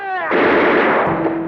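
A single loud gunshot cracks out sharply after a brief lead-in tone, then a rough, noisy blast and echo fill the rest, with no voices.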